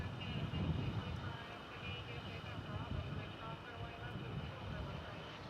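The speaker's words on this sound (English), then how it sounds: "Boeing 767." A Boeing 767 airliner at Dallas Fort Worth airport gives a low, steady, distant engine rumble that holds throughout, faint and continuous under a quiet background.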